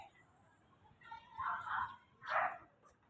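Dogs bark on a street in a Tondo neighborhood, Manila, a few distant barks and yips in two or three bursts over faint street ambience.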